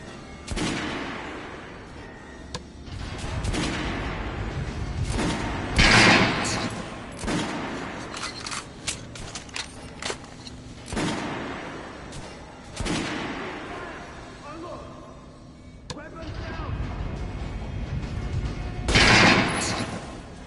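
Rifle gunfire in a PS4 shooter: repeated bursts of loud automatic shots and booming reports spread over the stretch, with quieter gaps between volleys and some voices talking faintly underneath.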